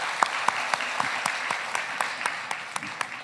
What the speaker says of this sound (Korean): 격려의 박수 한번 해주시면 감사하겠습니다